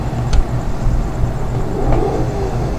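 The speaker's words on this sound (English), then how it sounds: "This thing's got a mean V8." In BeamNG.drive, an off-road truck's V8 rumbles low and close, with a steady idle that rises into a brief rev near the midpoint before settling back, alone without speech.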